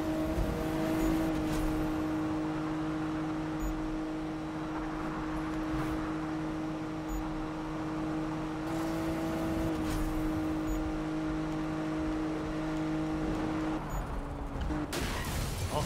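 A car engine drones steadily while driving in the racing game Need for Speed, a sustained, fairly loud hum with stable tones and a brief shift near the end, with no talking.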